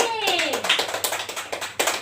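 Children clap their hands in a classroom during a lesson, a quick run of sharp, rhythmic claps close by, mixed with a teacher's and kids' voices talking over them.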